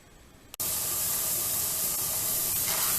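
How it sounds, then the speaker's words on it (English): A pressure canner valve starts hissing abruptly after a brief quiet moment, then blows a loud, steady jet of escaping steam for the rest of the time, close up and without voices. "you can see the stream of steam that's just coming out of there"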